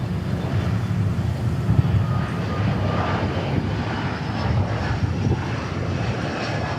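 Atlas Air Boeing 747 jet taxiing at Dallas Fort Worth airport: a steady, loud, broad engine roar and rumble holding evenly throughout, heard from a distance outdoors.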